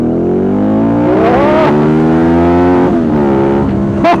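A Ducati Multistrada 1200 motorcycle in Sport mode accelerates hard, its engine note rising loud and close through the gears with brief dips between shifts.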